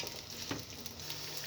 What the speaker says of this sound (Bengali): ভালোভাবে আমি এখন চালগুলোকে ভেজে নেব।